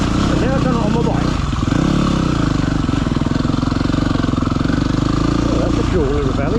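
A Yamaha WR250R enduro motorcycle engine runs steadily near the microphone on a ride through the Avon valley, a loud buzzing drone that briefly shifts pitch, with someone talking over it.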